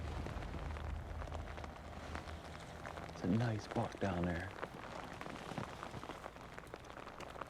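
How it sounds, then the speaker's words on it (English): Rain falls steadily on surfaces outdoors while hunting Sitka blacktail deer, a soft constant patter beneath a man's brief quiet remark. "Then it starts to rain."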